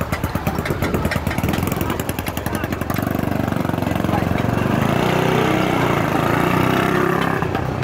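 A 1964 Ducati Mach 1 250 single-cylinder motorcycle engine running close by, a rapid loud pulsing beat at first that settles into a steady, dense idle-like drone throughout, with no talk over it.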